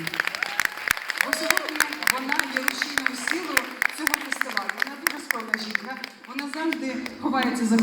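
An audience in a concert hall at a Ukrainian folk song contest applauds with brisk, crisp hand claps, while someone speaks over them.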